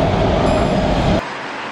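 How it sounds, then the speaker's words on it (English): Inside a moving city train in Vancouver, a steady broadband rumble and rolling hiss fill the cabin at close range, then cut abruptly to a much quieter hum just after the first second. "We're on the train."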